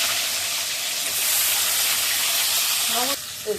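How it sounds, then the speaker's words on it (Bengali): Potatoes dropped all at once into hot oil give a steady, loud broadband hiss and sizzle throughout, with a brief voice-like tonal sound near the end. "এবার আমি আলুগুলা ভেজে নেব সবগুলো আলু একসাথে ছেড়ে দিই"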